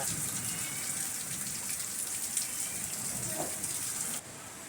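Rain during an afternoon storm falls steadily nearby, a constant patter and hiss of drops on surfaces that cuts off abruptly near the end.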